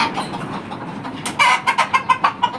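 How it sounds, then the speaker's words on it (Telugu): Chickens cluck at a poultry shed in the Kuwait desert, a quick run of sharp, close clucks bursting out in the last second after a quieter, scratchy stretch. "వెళ్ళాడు కోళ్ళు అన్నీ."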